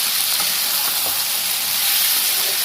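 Mushrooms frying in hot oil in a pan give a steady, close sizzling hiss with faint crackles, heard alone without any talk.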